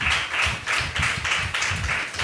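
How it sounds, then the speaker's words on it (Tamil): A church congregation at an Easter service claps in a rhythmic, steady pattern, about two claps per second, loud and fairly close, with no voices over it. "நல்ல ஒரு கைத்தட்டு கொடுக்க பாரு"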